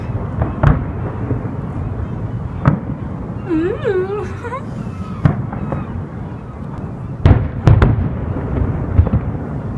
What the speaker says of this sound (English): We can just see the fireworks, but there's a building in the way.